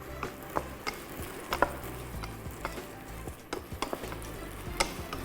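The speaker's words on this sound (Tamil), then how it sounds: "சட்டியை வச்சோடனே எண்ணெய் ஊற்றலாம். காய்கறியை உடனே போடலாம்." Vegetables fry in hot oil in a pan, making a soft continuous sizzle. Irregular light clicks and taps from stirring sound close by.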